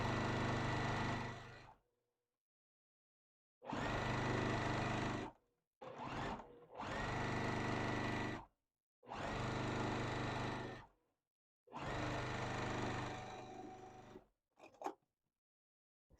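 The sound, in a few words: sewing machine stitching side of quilt block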